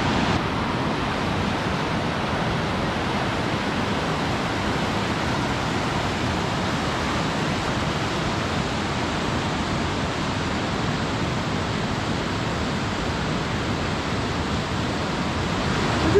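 A small waterfall in Sweden pours in a steady, unbroken rush of broadband water noise that holds an even loudness from start to finish, with no voices over it.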